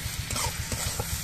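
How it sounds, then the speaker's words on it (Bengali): Pea pod paste stirred into onions fried reddish-brown in a pan, giving a steady low sizzle with soft rhythmic scraping of the spoon, close and alone. "পেঁয়াজগুলো আমি লালচে রং করে ভেজে নিয়েছি। এবার এর মধ্যে আমি মটরশুঁটির খোসা বাটাটা দিয়ে দিচ্ছি।"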